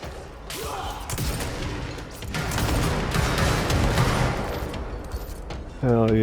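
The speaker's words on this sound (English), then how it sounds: "I knew we'd get some explosions eventually." Explosions and gunfire in the video game Control come as a dense, continuous roar of blasts and crackling for most of the clip. A voice briefly cuts in at the end.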